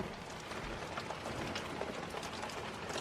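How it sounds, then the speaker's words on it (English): Steady summer rain falls during an underwhelming July storm, a dense even hiss of drops on surfaces, moderately distant and continuous with no voices. "So it's just raining."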